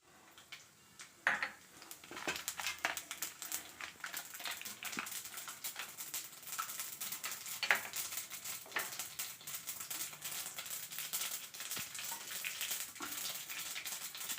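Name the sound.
mustard seeds, urad dal and cumin sizzling in hot oil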